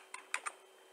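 Three quick, faint keystrokes on a computer keyboard as a command is typed, clicking close and separately in an otherwise quiet room.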